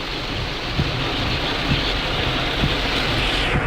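Heavy rain pours down during a dangerous thunderstorm, a dense, continuous hiss with faint low rumbling thuds underneath, steady and close throughout without speech.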